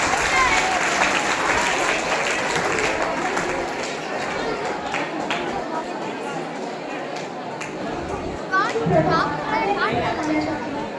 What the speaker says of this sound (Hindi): जोरदार तालियों से आरती का स्वागत किया जाए।